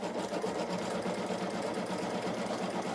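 A home embroidery machine runs a tack-down pass, stitching fabric onto stabilizer for a star design, producing a steady, rapid, close mechanical whir and needle chatter that continues evenly and alone.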